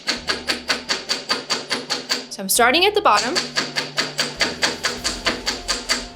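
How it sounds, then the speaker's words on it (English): A chasing hammer taps metal on a bench block in a steady, rapid rhythm of sharp clinks, flattening a jewelry bezel, pausing briefly while someone speaks, then resuming. "this is where I'm going to be hammering to make that more of a flattened bezel shape."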